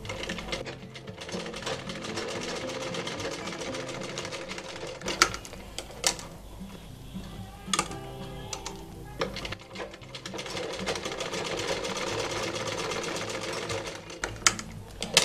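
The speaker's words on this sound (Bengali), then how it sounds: "এখন এই যে সাইডটা খোলা আছে এখানে আমি একটা সেলাই দিয়ে নিব।" A sewing machine stitching a cloth face mask, a steady fast mechanical rattle running throughout with a few short pauses, close and clear.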